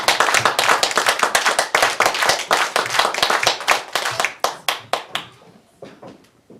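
Loud, dense clapping from a concert audience at a stage show, continuous at first and then thinning into scattered individual claps before fading out.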